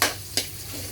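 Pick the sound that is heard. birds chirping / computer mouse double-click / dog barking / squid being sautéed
squid being sautéed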